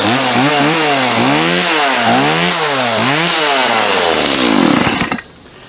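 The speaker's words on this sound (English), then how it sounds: "I love steel chainsaws." A Stihl chainsaw runs loud and close, its engine revving up and down in repeated surges for about five seconds before cutting off abruptly.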